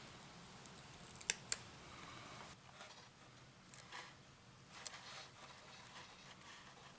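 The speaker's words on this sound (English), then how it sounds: "There we're cutting the tape to shape." Scissors snipping double stick tape to shape in a mandocello workshop, two sharp close snips early on followed by faint scattered clicks and handling over quiet room tone.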